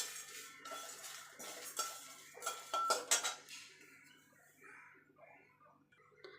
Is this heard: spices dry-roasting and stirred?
yes